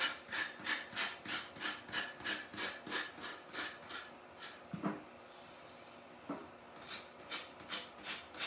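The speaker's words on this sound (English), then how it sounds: "So see how easy that is to get the edge off just by using, this is a pretty coarse sanding block." A coarse sanding block scrapes back and forth along an edge in a decoupage craft project, close and rhythmic at roughly two strokes per second, with a short pause and a couple of light knocks midway.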